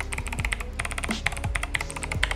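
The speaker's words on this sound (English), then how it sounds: "I chose to go with this 87-key mechanical keyboard" Rapid clacking of keys on an 87-key mechanical keyboard, steady and close, with crisp individual keystrokes and no voices.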